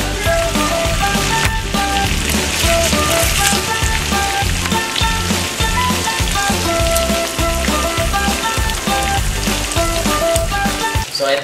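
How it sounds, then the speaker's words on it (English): Pork chop frying in a pan, a loud, dense crackle and spatter of hot oil running continuously without pause. "mag iprito na ako ng pork chop"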